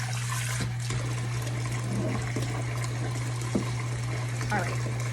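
A kitchen sink sprayer runs water into a sudsy basin set up for washing Norwex cloths, giving a steady, continuous hiss of spray over a constant low hum.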